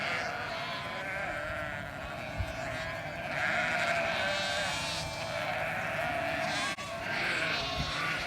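Lambs bleating steadily as they are herded across a farm, a dense chorus of overlapping high cries close by and continuous, with a person calling to them now and then.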